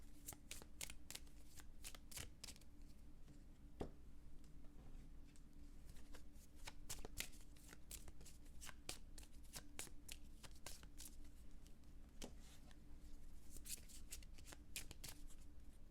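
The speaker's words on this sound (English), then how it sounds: "let's do some more shuffling and then pull a card from here" Steady crisp riffling and snapping of tarot cards being shuffled, repeated in quick bursts throughout over a faint low hum, no voices.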